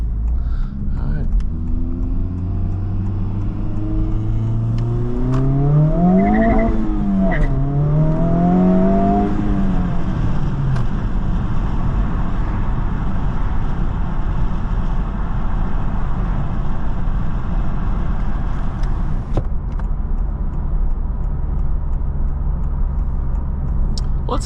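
A 2023 Honda Civic Type R FL5 drives at night, its engine climbing through revs then settling into a steady road drone with tyre rumble, while someone talks over it.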